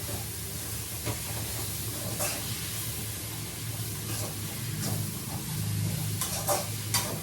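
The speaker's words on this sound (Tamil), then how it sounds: "தக்காளி வதக்கலாம்." Tomatoes sauté in a home kitchen pan, giving a steady close sizzle and hiss with occasional stirring scrapes and clinks, no voices over it.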